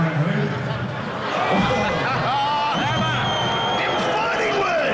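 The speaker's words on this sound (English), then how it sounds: "The boos from the crowd." Crowd at a Muay Thai fight jeering and booing, a loud, sustained mass of voices with whoops rising and falling throughout.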